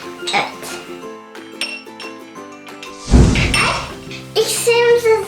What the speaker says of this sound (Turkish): Şimdi bunları karıştırıyorum.